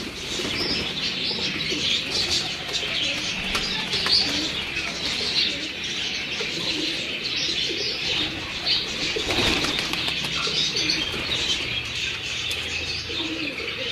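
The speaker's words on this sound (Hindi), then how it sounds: "लाल आँख के कबूतर हैं ये।" Red-eyed pigeons in a loft fill the air with a steady mix of cooing, chirps and occasional wing flaps, a dense, even flock sound with no talk.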